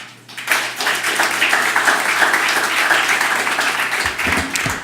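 Steady applause from a government funding announcement audience in Kamloops, a dense wash of many hands clapping that swells quickly and holds for several seconds before easing slightly at the end.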